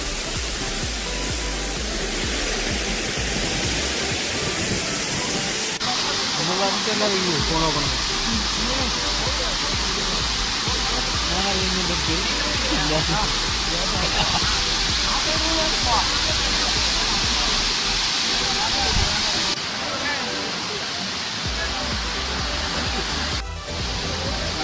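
Thusharagiri waterfall, the third fall, roars as a loud, steady rush of water close by, with people bathing. Voices talk over the unbroken torrent.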